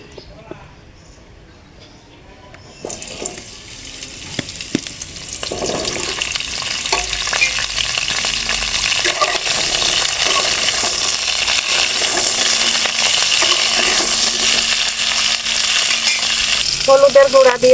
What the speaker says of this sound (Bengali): ফুলকপি আর আলুটা ভেজে নেব